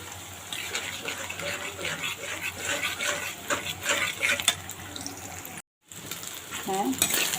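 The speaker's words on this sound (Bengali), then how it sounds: "ডিমটাকে ভালোভাবে ভেজে নিয়েছি" Beaten egg with onion and chili sizzling and frying in a pan, a steady hissing crackle at moderate level with a brief stirring scrape near the end and a short gap of silence.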